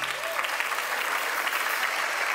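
A church congregation claps loudly and continuously during a prophetic worship service, a dense, even wash of applause throughout.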